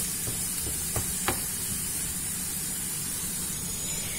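Spinach and mushrooms in a frying pan hiss steadily as they dry out, a loud continuous sizzle with a couple of brief stirring scrapes near the start and no voices.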